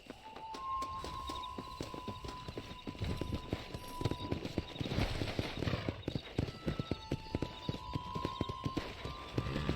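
Horse hooves clip-clop steadily in Red Dead Redemption, the rhythmic beats picking up toward a gallop, with a brief whinny and faint background voices.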